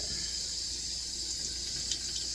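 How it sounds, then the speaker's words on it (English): Kitchen tap water running at low pressure into a sink while an ice tray is filled, a steady faint hiss of flowing water with no talking. "You definitely don't need your water running high because it will"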